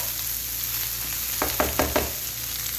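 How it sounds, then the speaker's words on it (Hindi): Onions frying in leftover oil in a pan while masala bhindi is cooked, a steady sizzle with a few louder stirring scrapes in the middle. "पैन के अंदर मैंने प्याज डाल दी हैं, जो बाकी का ऑयल था वो इसके अंदर ऐड कर दूंगी। बस अच्छे तरीके से प्याज को फ्राई करेंगे हम लोग।"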